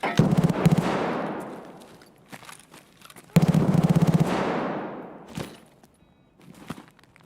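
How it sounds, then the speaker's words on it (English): Gunfire in a first-person shooter: two sharp, loud bursts several seconds apart, each ringing out with a long echoing tail as if inside a building, followed by a few scattered lighter impacts. "I think the person shooting's in this building."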